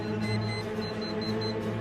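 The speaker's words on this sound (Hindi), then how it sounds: "देखिए अलार्म अपने आप बंद हो गया" An alarm in a residence room during exam time beeps in short repeated high pulses, faint and steady for a moment, without any voices.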